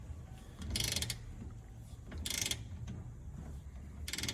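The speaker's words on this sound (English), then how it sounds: "I'm gonna go ahead and torque my 7/16 U-bolts to 40 pounds." A torque wrench ratchets in three short clicking bursts while tightening 7/16 U-bolts during a Panhard rod installation, close up with quiet pauses between pulls.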